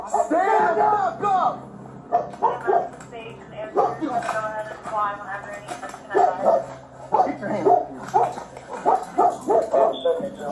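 A dog barks and yips repeatedly amid loud, agitated shouting and crowd voices, the barks mixed in and partly masked by the talk.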